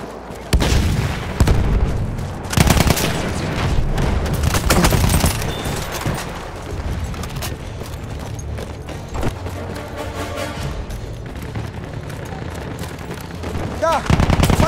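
Enemy machine gun fire in the Battlefield 1 video game, heavy bursts of automatic fire and booms filling the whole stretch, loud and dense with scattered battle noise.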